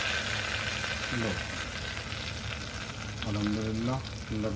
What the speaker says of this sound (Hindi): लग गया है तड़का